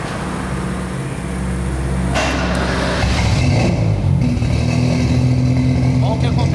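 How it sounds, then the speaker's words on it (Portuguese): A car engine cranks over and catches, then settles into a steady idle hum with a low drone, close and fairly loud, while a person talks nearby. "Dá partida no carro."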